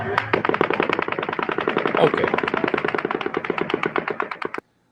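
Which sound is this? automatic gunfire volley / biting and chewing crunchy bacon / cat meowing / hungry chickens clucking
automatic gunfire volley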